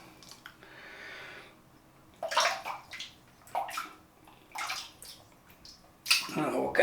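A feather's tips get wetted and washed in water, heard as splashy sloshing bursts that come and go in short clusters between quieter gaps, up close, with faint talk at times.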